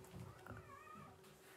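A cat meows softly indoors at a rural agriturismo, one brief faint call amid low room noise and quiet talk.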